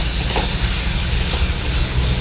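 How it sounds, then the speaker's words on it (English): Moringa flowers sizzling and frying in a pan on a stove, a loud, steady, close hiss of hot oil that holds unbroken with no pauses and no talking. "you can hear all the sizzling, right?"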